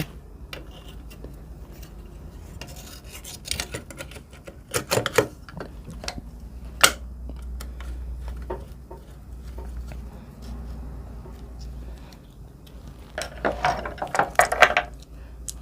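Screwdriver tightening a screw on a sewing machine, giving scattered dry ratchet-like clicks and metallic ticks close by, with louder clusters of rapid clicking near the start and end and quieter handling in between.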